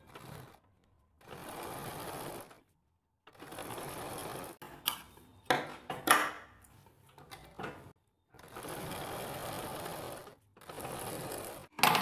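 A sewing machine stitches lace onto a kurti sleeve with black thread in short bursts of rapid, whirring stitching, separated by pauses and clicky mechanical handling noises of the machine, close and clear without talk.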